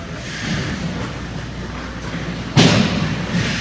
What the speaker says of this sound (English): And when the glass shakes and you hear the door close,